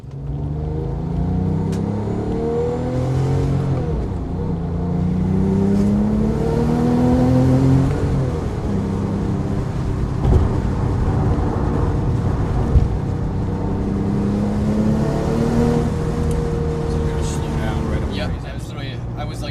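A 2008 Porsche 911 GT2 twin-turbo flat-six pulls hard at partial throttle, repeated rising engine sweeps through the gears heard from inside the car, with road rumble and people talking over it.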